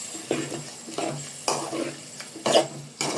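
Beef cooking with chana dal in a pot, stirred in several close, rhythmic scraping strokes with a light sizzle between them, no voice over it.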